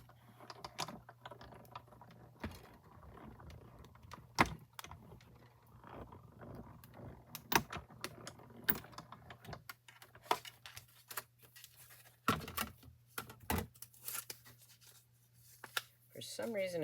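A die-cutting machine runs paper through its plates to cut out an ice cream shape, giving soft mechanical grinding and ratcheting clicks over a steady low hum, with sparse intermittent talk alongside.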